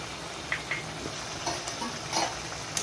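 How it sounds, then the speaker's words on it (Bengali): Chicken korma meat stirred and fried in a pan, a steady low sizzle with scattered scraping stirs and light clinks of a utensil against the pan. "ভালো করে নেড়ে চেড়ে নেবো, একটু ভালো করে কষে নেব।"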